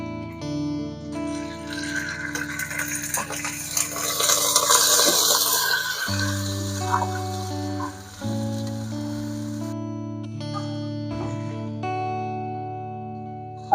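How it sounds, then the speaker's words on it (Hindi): Half a cup of water poured into a pot of sautéed ginger, garlic and onion for desi chicken yakhni, giving a close, steady splash and trickle with no talking. "आधा कप पानी डालेंगे अब इसमें।"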